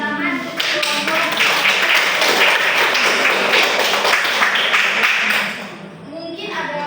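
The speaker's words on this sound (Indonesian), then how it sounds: "kita berikan tepuk tangan untuk kelompok" A classroom audience claps for a student group after its chemistry presentation on reaction rates, a burst of lively close clapping lasting several seconds, then fading into talk.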